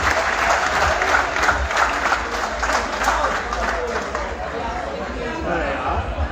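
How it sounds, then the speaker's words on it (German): A festival tent audience at a car show's trophy presentation applauds a prize winner, sustained dense clapping mixed with crowd chatter that slowly eases off, loud and close. "Herzlichen Glückwunsch und einen riesigen Applaus bitte"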